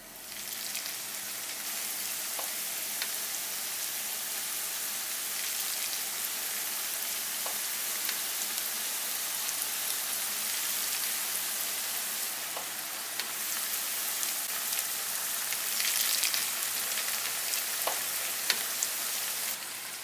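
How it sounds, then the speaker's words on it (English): Battered tuna tacos fry in hot oil with a steady, continuous sizzle and crackle, with occasional louder pops and no talking. "We are ready to go start frying."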